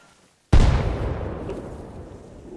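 An artillery shell explodes nearby in a military combat game, a sudden loud boom that rolls into a long, fading rumble over a couple of seconds, alone without talk.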